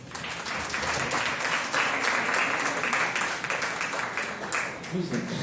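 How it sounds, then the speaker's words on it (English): An audience at a Crossing Culture 2016 event gives a consultant a big round of applause, a sustained, even roar of many hands clapping that holds steady before tapering slightly at the end. "Please give him a huge applause."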